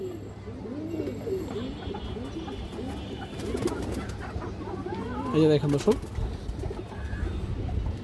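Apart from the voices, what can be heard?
pigeon cooing, female pigeon being shown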